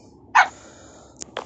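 A small dog in a Minecraft-style farm game gives a short yip, then two quicker faint barks near the end, each brief and isolated against a quiet background with no talking.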